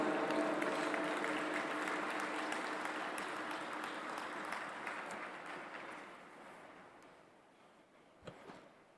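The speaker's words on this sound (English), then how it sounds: "Please give a huge round of applause to Acharya Lokesh Muniji" Gathered audience at the 2023 G20 Interfaith Summit in the World Peace Dome applauds Acharya Lokesh Muniji, a broad clapping wash that starts strong and gradually fades toward near silence, with a few stray claps at the end.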